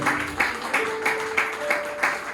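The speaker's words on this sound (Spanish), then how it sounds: "Dale un fuerte aplauso al Señor." A church congregation claps in steady rhythm, about two to three claps per second, with music tones sustained underneath.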